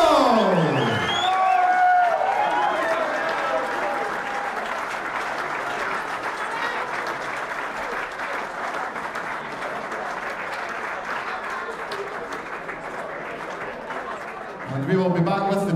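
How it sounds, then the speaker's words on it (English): Audience at the Czech Open, a darts tournament, applauding the men's champion with sustained clapping, cheers and whoops beneath a loud announcer's voice at the start. "a round of applause for the 23rd Czech Open Men's Champion, Scotty Dog, Scott Mitchell!"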